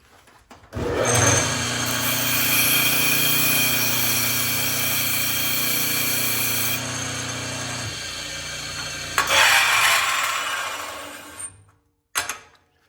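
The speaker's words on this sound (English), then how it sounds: "Put it on the grinder. I'll hit it real quick and I'll stop it." A disc grinder sharpens a tungsten electrode held in a spinning tube, giving a steady, loud motor whine and grinding hum that runs about eleven seconds, shifts pitch partway through and then cuts off abruptly.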